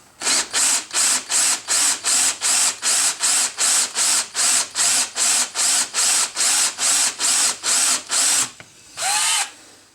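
Power drill boring into a Volvo brake caliper in short regular bursts, about twenty evenly spaced pulses of whining, grinding, close and loud, ending after a pause with one longer burst.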